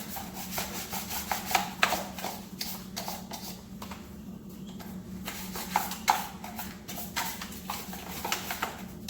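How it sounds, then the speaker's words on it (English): A big brush scrubs dirt out of an electric RC car chassis in quick repeated strokes, a rhythmic close scratchy rubbing that pauses briefly midway, with a faint steady hum underneath. "I'll use this big brush and just take and clean all this out."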